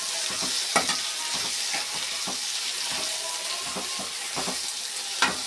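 Egg and boondi curry being stirred in a hot pan, a continuous sizzle broken by repeated rhythmic scraping strokes of a spoon, close and fairly loud with no talk.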